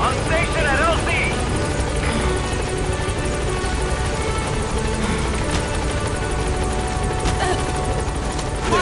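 Pequod support helicopter from Metal Gear Solid 5: The Phantom Pain, its rotor and engine drone steady and loud throughout, with radio chatter and game effects layered over it.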